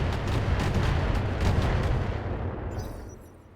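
Long-range missiles fired from an Archer mech in BattleTech, a loud rolling volley of launches and impacts that holds steady and then fades away toward the end, with no voices.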